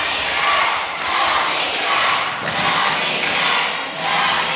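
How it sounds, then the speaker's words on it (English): A wrestling show crowd roars in steady swells around the ring, with loud sustained cheering and occasional thuds, no clear talk over it. "Listen to this crowd behind LBK"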